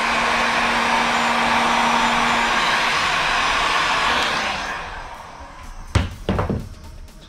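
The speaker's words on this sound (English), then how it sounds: "You just want to get your heat gun. You want to get it hot, but you don't want to melt the cable." A heat gun blows hot air over a wire connection on a motorcycle regulator/rectifier, giving a steady whooshing roar that fades out, followed by a few close thumps and clunks.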